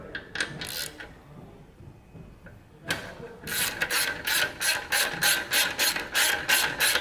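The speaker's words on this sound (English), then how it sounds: "Now we proceed and take off the bracket. So we'll take out now that bolt here." A bolt on a Harley Davidson Dyna exhaust bracket is loosened with a ratchet. Brief clicks come first, then a pause, then a fast, even run of sharp ratcheting clicks, close and clear.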